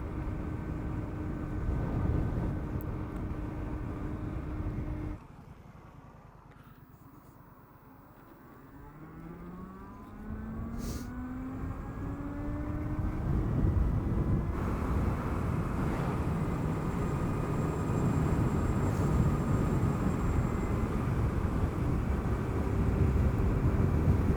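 A Super Soco TC MAX electric motorbike ridden flat out at full throttle: a thin electric motor whine rises in pitch through the middle, under a constant rush of wind noise, with no talk.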